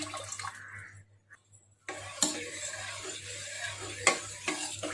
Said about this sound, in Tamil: இப்போ நல்லா மிக்ஸ் பண்ணிடலாம்